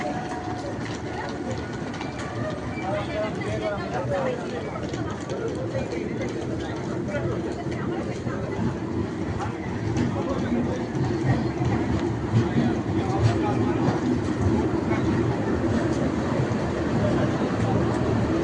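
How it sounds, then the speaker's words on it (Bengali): A long-distance express train bound from Agartala to Delhi pulls out of a station, its steady rumble and clatter filling the scene while voices chatter nearby throughout. "চলে যাচ্ছে ট্রেনটা, অনেক দূরপাল্লার ট্রেন"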